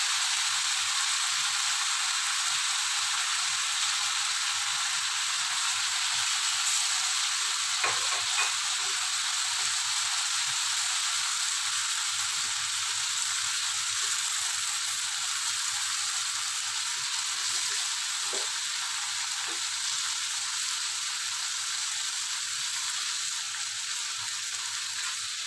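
Peanut butter being stirred into a pan of kare-kare, with a steady, loud sizzling fry throughout and a few faint scrapes from stirring, no voices.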